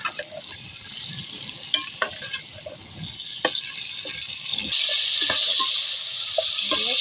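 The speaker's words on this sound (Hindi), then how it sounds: "देख लो कैसे मैं इसको फ्राई कर रही हूँ ऑयल के अंदर।" Chicken frying in oil with garlic and ginger gives a steady hiss that swells louder partway through, with scattered clicks and spatters and no talking.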